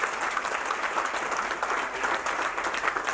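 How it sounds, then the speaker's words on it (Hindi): Retirement party audience in India giving a steady, lively round of applause, many hands clapping evenly for a few seconds at moderate volume. "तो एक बार जोरदार तालियां अपने लिए।"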